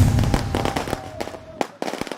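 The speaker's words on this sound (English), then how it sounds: "It's not even New Year's Eve when fireworks and firecrackers are at their grandest and loudest." Fireworks and firecrackers go off in late December in the Philippines ahead of New Year's Eve: a dense run of sharp, crackling pops and bangs, some close and loud, with brief gaps between bursts.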